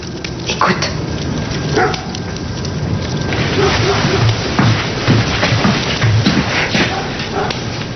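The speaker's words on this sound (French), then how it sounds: "on dirait un chien" A dog barks faintly and intermittently somewhere in a forest during a snowstorm, partly masked by steady wind noise and people talking nearby.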